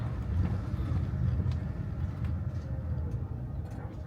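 A car towing a trailer over a potholed road, a continuous low rumble with uneven bumps and jolts rattling through, no one talking.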